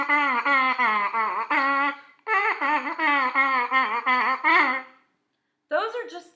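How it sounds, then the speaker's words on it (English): Trumpet mouthpiece buzzed alone in the rhythm of Twinkle, Twinkle, Little Star, a series of short, nasal, voice-like buzzy bursts in even groups with brief gaps and a final pause before one last burst. "A lot of times kids will buzz the rhythms and it'll sound like this for Twinkle."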